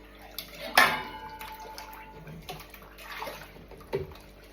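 Dog dishes get washed under running water at a kitchen sink, with a sharp clatter of a bowl early on, then softer splashing and a few light knocks, close by and without talk.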